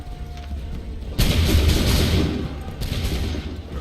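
A musket volley fired on command in the video game Assassin's Creed III, one loud massed blast followed by a rolling echo and a second, softer crack near the end.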